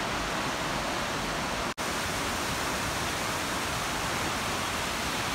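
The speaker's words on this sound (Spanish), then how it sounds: "Hasta acá está llegando ya la brisa de la cascada." A waterfall and a clean river rush nearby in a rain-soaked, slippery mountain spot, giving a dense, steady roar of water with a brief dropout partway through.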